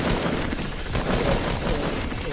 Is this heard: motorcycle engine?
no